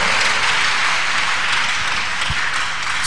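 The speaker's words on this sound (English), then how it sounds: "Let's clap unto the Lord and appreciate Him." Applause at a church testimony service, a dense, loud wash of many hands clapping together that fills the whole moment without any speech.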